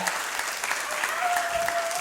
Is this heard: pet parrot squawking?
no